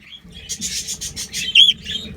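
Eight white budgerigars chirp in quick, bright bursts, a close flurry of overlapping tweets and warbles with one sharper, louder call near the end.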